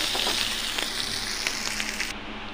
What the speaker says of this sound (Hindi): इसको थोड़ा सा और हम भून लेंगे।